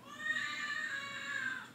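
A housecat gives one long, loud, drawn-out meow at close range, sustained and wavering for nearly two seconds with no talking over it.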